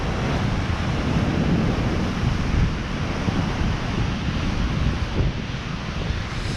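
Ocean surf rolls and breaks continuously nearby at El Cotillo beach, a broad steady roar of churning water with wind buffeting the microphone throughout.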